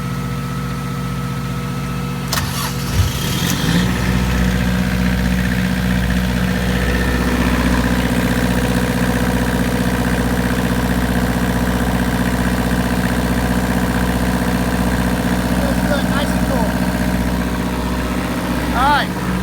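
Diesel engines aboard a Burger motor yacht idle with a steady low rumbling drone and vibration, with a brief clatter early on and a voice talking over it at times.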